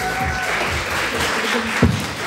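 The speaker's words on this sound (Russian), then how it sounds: "Аплодисменты!" Applause from a concert audience, a steady dense wash of clapping that fills the whole stretch, with a sharper clap or thump near the end.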